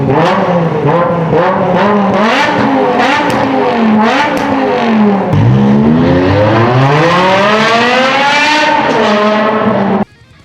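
A loud V8 sports car engine revs hard, its pitch climbing and dropping through gear changes before rising to a high scream near 7,750 rpm and cutting off.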